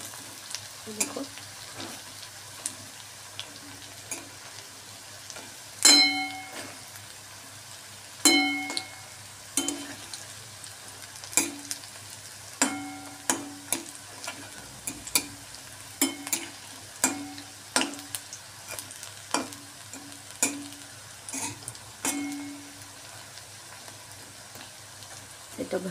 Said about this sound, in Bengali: আর এই পনির পকোড়াগুলো এবার ভাজছি